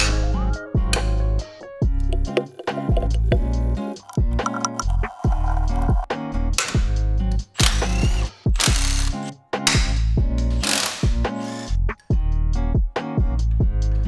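Ratchet wrench clicking in repeated bursts while loosening stuck 14mm transmission mount bolts on a Honda Fit, with sharp metallic pawl clatter close by, broken by brief pauses between strokes.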